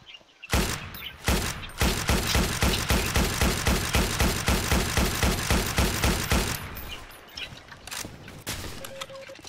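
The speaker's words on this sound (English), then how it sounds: "Or, yeah, the German LMG in this game." A German light machine gun in the Roblox game Entrenched fires a long rapid burst of regular, loud, close shots, tapering into scattered distant gunfire afterward.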